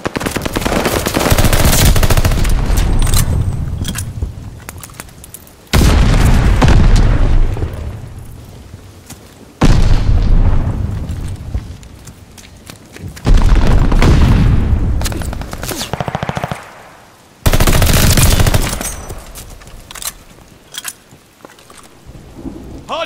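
Heavy gunfire and booming explosions in Call of Duty: Vanguard during a Hardpoint match, loud and sustained in long bursts broken by brief gaps, with dense rattling automatic fire and rumbling blasts throughout.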